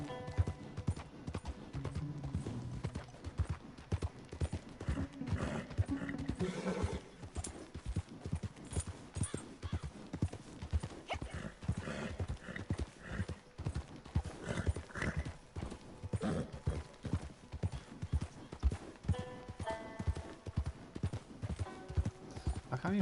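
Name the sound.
horse hooves clip-clopping, from a video game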